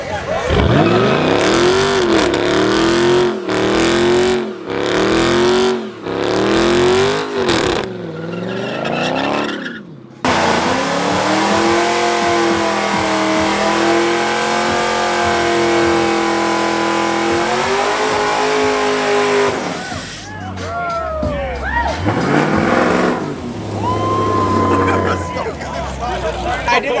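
A Pontiac G8 doing burnouts on private property, its engine revving hard in repeated rising surges, then holding a long loud high-rpm wail with tire squeal before dropping off, with people talking over it.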